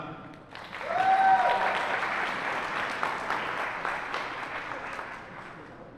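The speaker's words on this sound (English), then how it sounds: "can we get another round of applause for all those other people going out to the military right now?" A high school senior awards ceremony audience breaks into applause for people heading into the military, clapping swelling quickly and holding steady, moderately loud, with a brief tone near the start and a slow taper.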